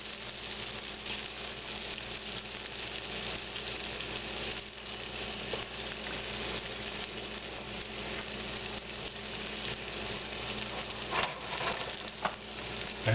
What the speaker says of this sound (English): So you can just stir them with a spatula, something like this, or a fork, or whatever you want